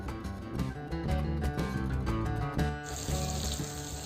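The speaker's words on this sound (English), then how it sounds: "Now place the marinated fish pieces into the frying pan." Hissing, crackling sizzle of marinated, semolina-coated fish pieces frying in hot oil in a pan, close and continuous, with a sharper bright hiss rising toward the end.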